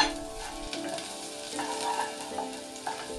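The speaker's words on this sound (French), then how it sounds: "Faire revenir 10 secondes l'ail." Garlic sizzles in hot oil in a saucepan over medium heat, a bright steady crackle with a few stirring scrapes near the pan.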